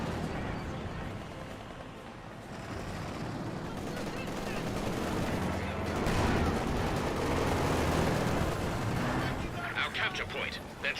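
Dense battlefield gunfire and artillery from the video game Company of Heroes 2, with rifle volleys and heavy booms blending into a continuous loud roar that swells around the middle; a commentator talks over it throughout.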